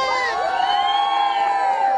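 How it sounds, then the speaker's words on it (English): Loud, jubilant crowd of Jose Menendez supporters cheering and shouting at an election-night gathering, a dense continuous roar of voices with high whoops layered on top, sustained close and steady throughout. "I'm in the middle of a very happy, jubilant crowd of Jose Menendez supporters"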